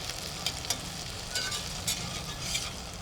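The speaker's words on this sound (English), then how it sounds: "We're going to move them around so they get kind of a coating of that oil that helps the heat" Potatoes frying in oil in a cast iron pan and being moved around: a continuous close sizzle with intermittent brighter scrapes and clacks as a utensil pushes them through the oil.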